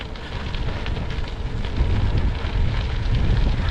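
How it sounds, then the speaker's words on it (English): Wind buffeting the microphone while riding a gravel bike outdoors, a continuous, fairly loud rushing roar that swells slightly toward the end, with no talking. "Back in the wind again now."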